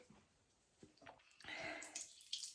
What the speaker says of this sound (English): I can hear water moving through the pipes